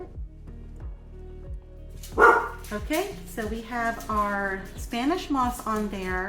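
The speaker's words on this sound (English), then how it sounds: "And if you guys hear my puppy dogs in the background," Pet dogs bark in a room during indoor craft work, sharp yips and barks repeating over several seconds while someone talks nearby, alongside steady regular tapping clicks.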